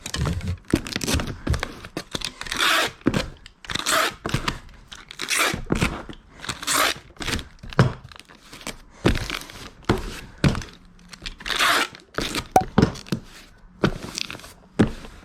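A package of women's hiking boots being taped up for shipping: repeated loud tearing and crinkling bursts of packing tape and paper, with thumps of handling, coming in an uneven rhythm close up.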